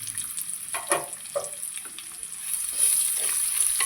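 Sliced onion and curry leaves sauté in a pan for a sardine curry, with a steady close hiss of frying and soft scraping strokes as they are stirred.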